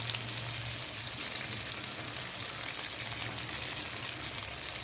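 Green chillies, tomatoes and spices fry in a pan with a dense, continuous sizzle close up, steady and unbroken with no talk over it.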